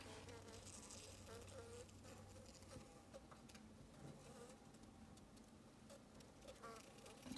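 Dense, continuous buzzing of many honey bees close by in an observation hive, a faint steady hum with occasional brief taps and rustles.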